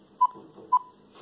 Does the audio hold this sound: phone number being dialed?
yes